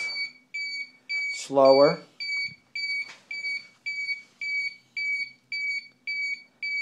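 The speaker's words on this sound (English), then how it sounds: "So now you hear the beeping going off." A high electronic beep from a solar-powered 555 timer circuit pulses in an even, steady rhythm, about twice a second, close by, while a voice speaks briefly near the start.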